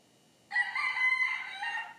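A rooster crows at five in the early morning, one long drawn-out call that rises and holds, fairly faint and distant, with nothing else heard around it.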